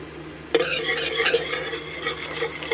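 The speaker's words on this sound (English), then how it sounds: "So just keep stirring" A spatula scrapes and stirs thick candy syrup coming to a boil in a pot at about 165 degrees, starting abruptly and continuing as a close, steady rasping swirl.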